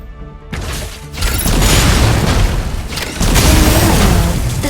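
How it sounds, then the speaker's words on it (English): A Gauss cannon firing in the mech game Mecha Break makes a loud, heavy boom that swells into a sustained roaring blast. A brief dip is followed by a second powerful surge. "Try firing the Gauss cannons during a boost attack to neutralize all targets"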